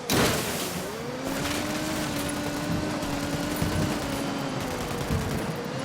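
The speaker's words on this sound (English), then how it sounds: "Opening fire on these fuckers" Gunfire in Ghost Recon Wildlands, a sharp burst at the start followed by scattered shots over a rising and falling engine drone.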